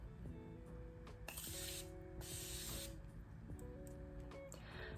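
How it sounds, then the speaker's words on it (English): Several short bursts of Morphe Continuous Setting Mist spray out of a pump bottle in quick succession, close and crisp hissing puffs, with soft background music underneath. "This is like one of the best setting mists that I've used thus far. It's the Morphe Continuous Setting Mist."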